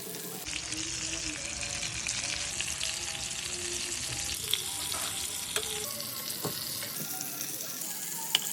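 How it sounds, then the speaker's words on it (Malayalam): Home-caught fish fries in a pan with a continuous crackling sizzle, near and steady, with a few sharp pops and light utensil taps along the way. "അങ്ങനെ നമ്മളെ ഫിഷ് ഫ്രൈ ഏകദേശം ആയിക്കൊണ്ടിരിക്കുന്നുണ്ട്"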